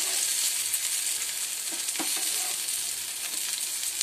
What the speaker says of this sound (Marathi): सर्व काप मी अशी परतून घेणार आहे।